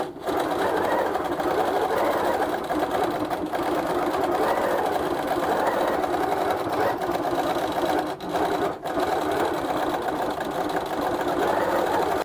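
A sewing machine with a stitch regulator runs steadily while quilting fabric, a continuous close mechanical whirring and rapid needle chatter with a couple of brief pauses, no talking.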